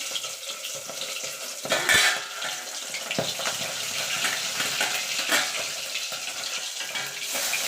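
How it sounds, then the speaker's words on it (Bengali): Fish heads fry in a pan of hot oil with a steady, close sizzle, broken by sharp spluttering pops and a louder crackling burst near the start. "অনেক সময় কিন্তু মাছের মাথা তেলের পরে দেওয়ার পর কিন্তু ফোটে"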